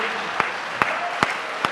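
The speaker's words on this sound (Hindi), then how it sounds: "ताली जिंदाबाद" Audience claps in short bursts at a Hindi kavi sammelan poetry recital, four brief sharp hand-clap peaks spaced evenly over a steady background murmur of the hall.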